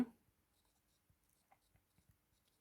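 Someone writing an answer on a board, a faint series of light taps and short scratchy strokes spread unevenly over a few seconds in a quiet room, no talking.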